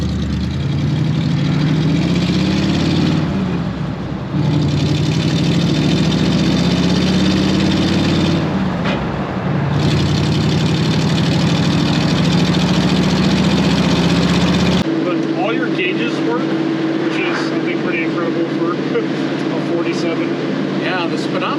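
A 1947 Ford pickup's flathead V8 runs with dual exhaust, giving a steady, loud low-pitched engine rumble that shifts to a different, quieter cabin tone in the final seconds; people talk over the engine throughout.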